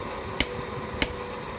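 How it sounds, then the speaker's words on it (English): A hammer strikes a chisel set on steel twice, about half a second apart, each a sharp bright metallic clink over quiet background hiss, during hand forging of a firesteel. "I set my chisel on the material and then give it a good"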